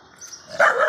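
A dog lets out a single sharp bark close by at the end of a brief moment, after a faint whine.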